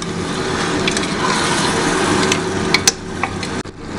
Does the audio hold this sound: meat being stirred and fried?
yes